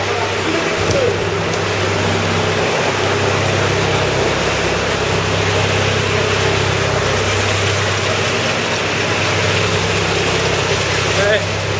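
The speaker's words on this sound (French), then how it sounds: "Diesel qui fume bien droit." A swapped-in TDS diesel engine runs at a steady idle, giving a continuous, even low rumble and vibration at close range that holds throughout.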